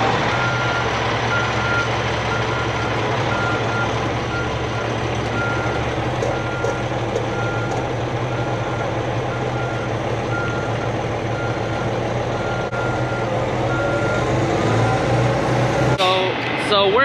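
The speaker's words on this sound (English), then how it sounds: "let's back up into there from here so that we don't have to do a blindside backup" A car hauler truck backs up, its reversing beeper repeating steadily and loudly for the whole stretch over a constant engine drone, with a clatter near the end.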